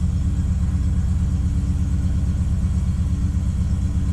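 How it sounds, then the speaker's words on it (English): LS1 V8 engine in a Nissan GU Patrol idling right after a cold start, a steady low rumbling throb with even pulses, loud and close with no voices. "All right, first start today, cold start. Starts right up."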